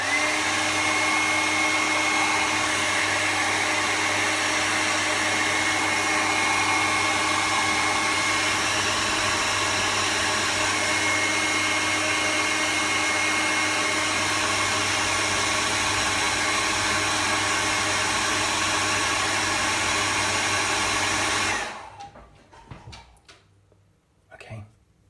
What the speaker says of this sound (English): I'm just going to give it a blast with a hairdryer.